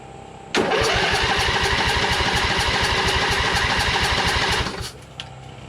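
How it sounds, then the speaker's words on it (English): A Briggs & Stratton 20 HP Intek V-twin engine on a Craftsman LT2000 lawn tractor is cranked by its starter with one spark plug boot off for a compression test, giving a loud, steady rhythmic chugging that runs for about four seconds and then stops. "we're just going to crank it a few times and test mine"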